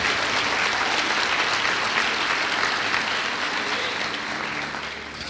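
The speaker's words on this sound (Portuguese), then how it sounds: "Aplauda ao Senhor Jesus" Steady applause from a church congregation during a sermon fills the space for about five seconds, broad and even, tapering slightly at the end with no speech over it.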